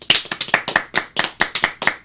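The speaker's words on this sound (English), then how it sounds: "huge round of applause to Giggles" A small group claps in quick, distinct, slightly uneven bursts, close and crisp, a short round of applause for a show's impromptu producer.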